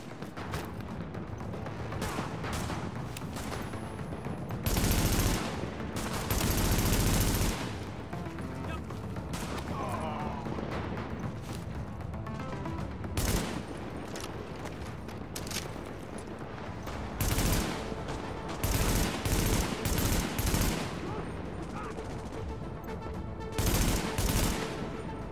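Bursts of gunfire in The Division video game, heavy volleys recurring in clusters through a steady loud din, with players talking between shots.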